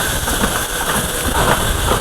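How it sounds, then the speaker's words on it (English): QLQ-1001YG slider assembly machine for zipper slider bodies and pullers, an industrial unit of about 250 kg, running with a steady, loud mechanical whir and hiss, continuous and close, with no speech. "Now let me start the machine."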